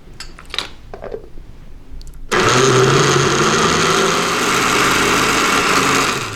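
A blender running loud and steady, whirring through sweet potato pie filling with almond butter, avocado and a little added water, starting abruptly after a few quiet kitchen clinks and continuing without pause.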